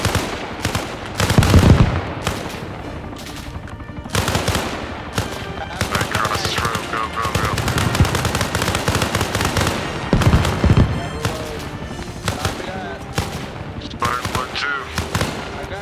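A machine gun team fires long rapid bursts at a Humvee, loud cracking volleys overlapping with other shots and booms while voices shout over the din.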